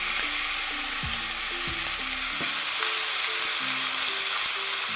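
Chopped onions sizzle in hot oil in a flat pan, a steady bright hiss layered with repeated scraping and knocking of a spatula against the metal, close and continuous with no talking.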